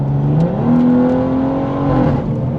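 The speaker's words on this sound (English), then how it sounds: "You guys see how fast that downshifted?" A car in sport mode drops quickly from 7th to 5th gear, the engine note climbing sharply in a rev blip and then holding a higher, loud, close droning pitch before easing slightly.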